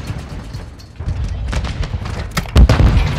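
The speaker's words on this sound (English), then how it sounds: "There's nades going off over here." Grenades explode in a Call of Duty: MW2 match, with several dull booms and bursts of gunfire. The heaviest blast lands near the end, and players talk over the action.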